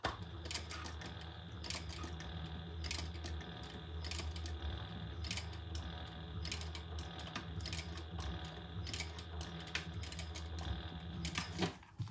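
A sewing machine backstitching a couple of stitches on a crossbody bag, heard as quiet, rapid mechanical ticking and clattering bursts in an irregular run, close up with no voices.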